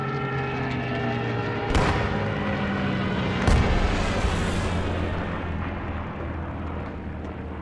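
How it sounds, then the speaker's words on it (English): Stuka dive bomber attack in a video game: two heavy explosive blasts land about two seconds apart over a continuous low battlefield rumble, with no talk. "Got another Stuka coming in."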